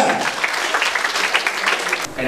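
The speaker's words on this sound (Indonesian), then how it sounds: "Sekali lagi tepuk tangan meriah untuk kelompok 3." Audience clapping for group 3 at a first-time voters' network event in Jambi city, a steady dense patter filling the room with some voices mixed in.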